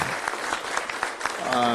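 An audience claps for library employees at a National Library Week presentation, a dense, steady patter of many hands throughout, swelling slightly toward the end as a voice rises over it.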